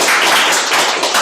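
An audience at a Toastmasters-style table topics contest claps together, a brief, dense burst of applause from a room full of people.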